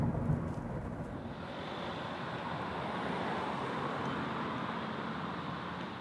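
A Kia Niro hybrid crossover rolls downhill in electric mode, giving a steady low road and tire rumble with wind noise and no engine note.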